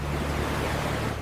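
Ocean waves and wind on the open sea around a whale watching boat make a steady, broad wash of surf noise for a brief moment, with no speech.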